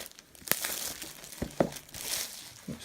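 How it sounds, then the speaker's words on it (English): Cellophane wrapping cut with a knife and peeled off a board game box: close crinkling and crackling with a few sharp snaps and tearing bursts. "It's wrapped in nice cellophane, so I'm just going to take a knife to that and"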